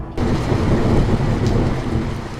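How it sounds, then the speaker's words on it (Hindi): Heavy rain pours in a dense, steady roar, with a low rumble of thunder underneath, loud and unbroken. "बाहर बारिश बहुत तेज हो रही थी"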